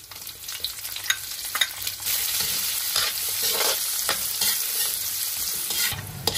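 Chopped onion and golden-browned garlic sizzle in hot oil for vegetable lumpia filling, a steady close frying hiss with occasional spatula scrapes and stirring clatter.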